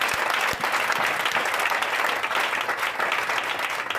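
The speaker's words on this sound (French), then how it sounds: "Les gens veulent acclamer Jésus" A church congregation claps in sustained, dense applause, loud and close, filling the space evenly throughout with no pauses.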